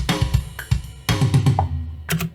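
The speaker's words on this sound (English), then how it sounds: "So if I wanted to do a tom roll" Programmed drum hits from Addictive Drums play back in a short pattern: punchy kick-like thumps and tom strikes in quick groups, ending in a rapid tom fill.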